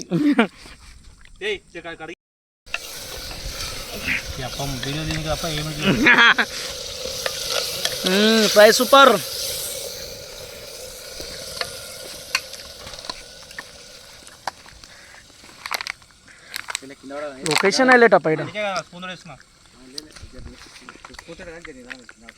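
Country chicken fries and gets stirred in a pot over a wood-fire stove in a village, a steady crackling sizzle broken by scraping strokes of the spoon, with people talking over it now and then.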